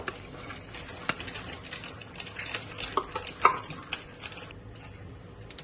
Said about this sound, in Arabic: ملي كنخوي داك لاكريم فريش ديال الطبخ كنحركو مزيان